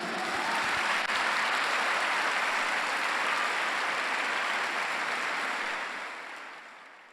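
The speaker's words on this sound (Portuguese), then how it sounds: "Vamos dar um aplauso a Jesus?" A church congregation at a Sunday service breaks into dense, continuous applause that holds steady for several seconds before tapering off.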